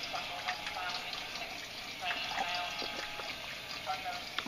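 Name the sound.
water flowing in snail aquaponics system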